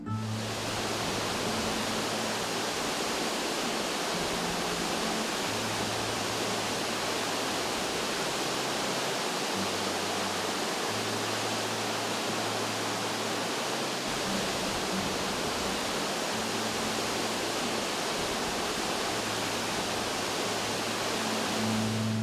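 The Casca d'Anta waterfall in the Serra da Canastra pours in a dense, continuous roar of falling water, loud and unbroken from start to finish.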